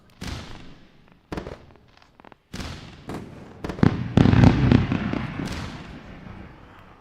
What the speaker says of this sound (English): Let's do the fireworks.